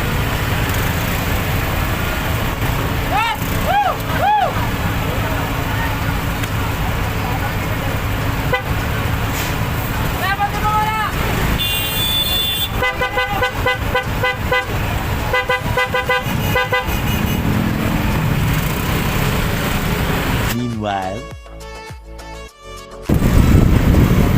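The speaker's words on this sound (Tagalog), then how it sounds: "Bakit sobrang traffic dito sa Patata?" Heavy road traffic on Payatas Road jammed by a fire, with engines rumbling continuously and car horns honking in short toots and longer blasts, some near and loud. People talk throughout.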